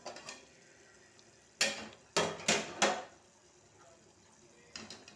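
A lid is set onto a cooking pot of tomato curry, giving several quick metallic clanks and knocks close by over a soft background hiss, then a faint final tap.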